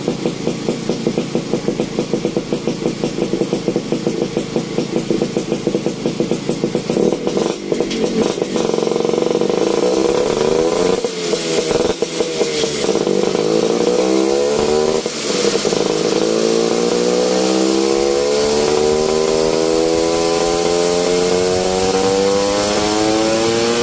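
A WSK 125 two-stroke engine fitted with a lightly modified exhaust runs on a dyno, a loud, buzzy, continuous drone whose pitch sweeps up and down through repeated revs, close and without speech.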